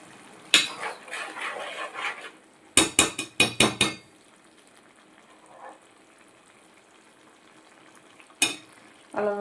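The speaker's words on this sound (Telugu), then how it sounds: "వెల్లుల్లి పేస్ట్ అయితే వేసానండి వేసాక ఒకసారి కలుపుకుని" A spoon clatters and scrapes in a pot of brinjal and prawn curry as ginger garlic paste is mixed in, sharp bursts of metallic knocks in quick clusters separated by quiet gaps.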